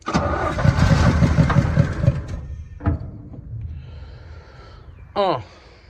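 A 1966 Chevy C10 pickup engine cranks and catches, running roughly with a loud low rumble that fades, followed by a couple of sharp backfire bursts near the end.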